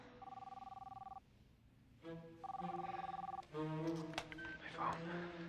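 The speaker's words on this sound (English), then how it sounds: "My phone." A telephone rings close by in repeated electronic bursts with short pauses between them, then gives way to a person talking and fainter tones.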